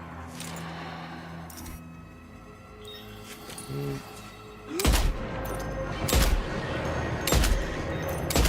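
Rifle gunfire in a shooting video game, several sharp loud shots spaced irregularly over a bed of game ambience and music.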